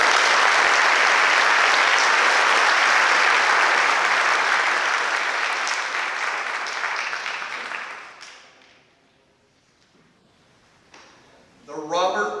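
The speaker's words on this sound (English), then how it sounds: "Please give them a round of applause." A crowd at a high school senior awards ceremony gives loud, sustained applause for award winners. The clapping thins out and fades into near silence, then a voice begins speaking at the end.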